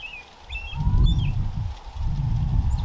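A robin calls in a few short, high chirps and whistles near the start, fairly faint over a steady low rumble of outdoor background noise.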